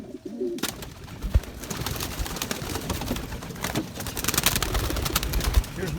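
Pigeons coo softly inside a breeding loft, a low continuous murmur of several birds with occasional louder rustles and flutters close by.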